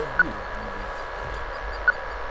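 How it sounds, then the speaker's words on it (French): Two short, high electronic beeps from a VHF radio tracking collar on a rock partridge, spaced well apart, about a second and a half between them, over a low steady background hum. "est un bip relativement lent qui signale que l'oiseau est vivant"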